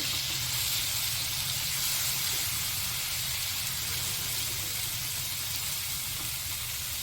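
Egg gravy with garam masala powder frying in a pan gives a steady, continuous hiss and sizzle, close and fairly even throughout, with no voices.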